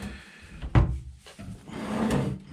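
Hotel suite drawers sliding open and shut, with a sharp wooden knock near the start and a longer sliding rumble later, close and fairly loud with no talking.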